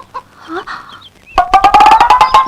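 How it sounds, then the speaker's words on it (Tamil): Chickens cluck noisily as they are let out in a Tamil comedy film scene, starting with a few scattered calls and then breaking into a dense, loud burst of overlapping clucks and squawks. "அந்த கோழி எல்லாம் திறந்து விடுமா?"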